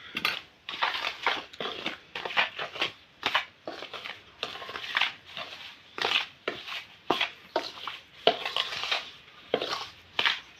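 A spoon scrapes and stirs sugar into a thick Magaj ladoo mixture of gram flour and ghee in a pan, in steady repeated strokes, fairly close and with no talking.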